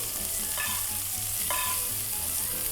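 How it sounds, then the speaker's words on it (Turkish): Lamb loin sizzles steadily in a hot pan of butter and oil, a close, continuous frying hiss with occasional louder crackles, with no voices. "Etimi tavama atıyorum. Yavaş yavaş banyo yaptırıyorum."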